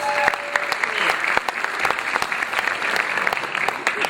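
A crowd claps steadily with sharp individual hand claps standing out, a sustained round of applause at moderate loudness.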